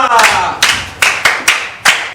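Classroom clapping for a pupil, heard as five sharp, loud bursts of hand claps at an irregular rhythm, close by, with a room's worth of people joining in.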